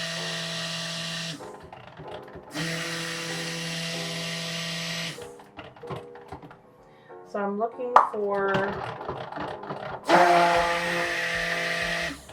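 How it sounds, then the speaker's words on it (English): An electric stick blender whirs through soap batter in bursts, a buzzing motor starting and stopping several times, with a person speaking between and over the blending. "Just make sure all the air bubbles are out from under the bell of the stick blender."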